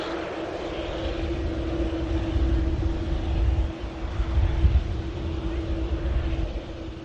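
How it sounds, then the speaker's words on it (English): A Saudi Air Boeing Dreamliner airliner bound for Jeddah gives a steady jet engine roar with a low rumble and a constant tone, moderately loud and swelling slightly through the middle. "Heading back to Jeddah. Saudi Air Dreamliner."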